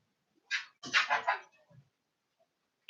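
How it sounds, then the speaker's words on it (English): A dog that has just woken up gives a short close bark, then a quick volley of louder barks, followed by a faint low whimper in an otherwise quiet room. "Wow, my dog woke up."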